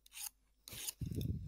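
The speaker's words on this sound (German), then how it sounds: "Hör auf, dein Messer zu schleifen!" A knife is sharpened in the video game Grand Theft Auto Online, making a few quick, harsh rasping strokes, close and fairly loud, with short pauses between them and no talking.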